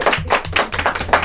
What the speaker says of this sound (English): Guys, can we give her a round of applause?